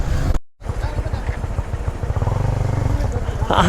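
Honda CBR motorcycle cruising on the Mawa expressway near the sixty limit, a steady engine drone and wind rush broken by one brief dropout, with a rider talking over it throughout.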